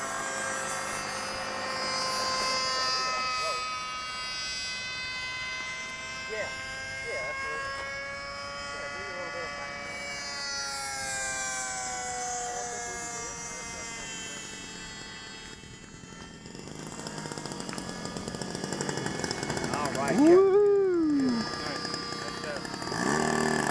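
A 1/4 scale Super Cub RC model plane with flaps comes in to land at a float fly, its engine droning steadily and shifting in pitch under ongoing conversation from nearby people.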